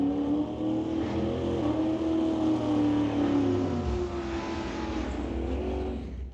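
A 1938 Pontiac street rod launches at an old-time drag race, its engine droning steadily and loud before the pitch shifts and fades as it pulls away down the strip, with no talk.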